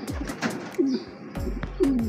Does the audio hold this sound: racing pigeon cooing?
yes